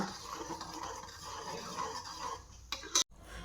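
Roasted semolina stirred into cooked chana dal and sago in a pot, soft wet scraping and swirling close up, ending in a couple of sharp spoon clinks against the metal.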